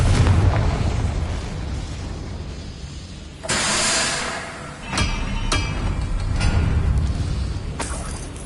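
A Confringo fire spell bursts in Hogwarts Legacy with a loud, roaring blast that hisses on for about a second, followed by a few sharper pops and a continuous rumbling battle backdrop.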